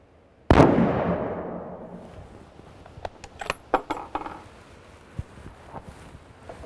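A rifle fires a single sharp, loud shot at a target during a scope sight-in, its boom decaying over a couple of seconds outdoors, followed by a scatter of faint clicks and light rustling.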